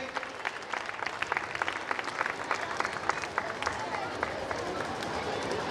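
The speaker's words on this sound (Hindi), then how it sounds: "कृपया जोरदार तालियों से मनोज सिंह सर का अभिनंदन करें।" A school audience in Jhumri Telaiya claps for a newly appointed teacher, a steady, dense round of applause from many hands that carries evenly from start to end, with some voices faintly mixed underneath.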